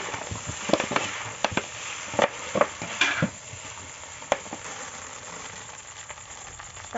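Boiled rice is stir-fried in a hot pan for Bengali-style fried rice, with a steady sizzle and irregular sharp scrapes and knocks of a spatula, louder at first and then settling into a softer frying hiss.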